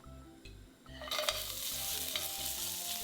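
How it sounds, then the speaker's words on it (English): Carrot hitting hot avocado oil in a pan over medium heat bursts into a close, bright sizzle that then holds steady, after a few quiet stirring clinks, with no talking. "In a pan over medium heat, add the avocado oil, carrot,"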